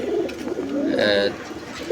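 Pigeons coo in soft, throaty rolling phrases, close and steady, with faint background voices and another bird's brief higher call in the middle.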